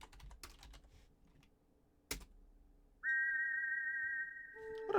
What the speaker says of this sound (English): What a beautiful whistle noise.